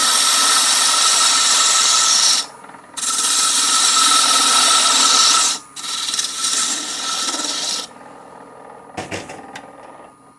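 Wood lathe turning a Christmas bell, the tool scraping and rasping loudly in long continuous passes, broken by three brief pauses, the last stretch ending in scattered rough scrapes.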